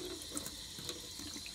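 Water is poured onto WindPro 9509 diaper fabric during a water test, giving a faint, steady running-liquid hiss that lasts only briefly, with no voices.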